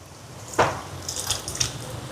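Soaked tamarind water is poured into a cooking pot for a lentil curry. A sudden splash is followed by a short run of light trickling and dripping, close by and with no voices.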